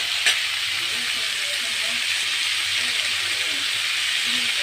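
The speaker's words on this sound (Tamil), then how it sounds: "ஒரு தக்காளி போதும். போட்டு நல்லா வதக்கிக்கோங்க." Tomato and onion sautéing with salt in a pan for a beetroot egg stir-fry give a steady, even sizzle and frying hiss that holds close and unbroken throughout, with a brief clack near the start and no voices.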